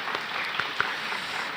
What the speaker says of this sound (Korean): 우리 모두 서로 힘내시라고 우리 박수 한번 쳐줄까요?